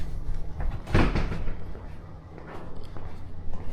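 A hotel room door in a converted prison swings open with a single close, solid thump and rattle, followed by quiet room tone and faint shuffling.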